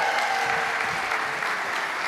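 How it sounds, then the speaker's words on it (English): A church congregation on Easter Sunday gives a round of applause, a brief burst of dense, even clapping from a large crowd that fills the room. "Give them one more round of applause."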